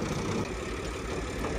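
A tractor engine runs steadily beside a mini cotton mill, a loud continuous low-pitched drone with no pauses or voices.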